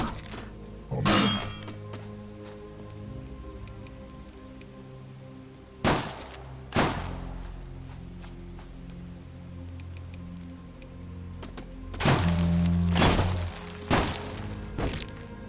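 Gunshots in a video game, a few sharp, loud cracks spaced several seconds apart, with a short cluster of shots near the end over a quiet ticking background.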